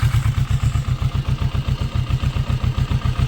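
A motorcycle engine with an Akrapovic exhaust idles close by with a steady, lumpy low throb and a rapid, even pulse.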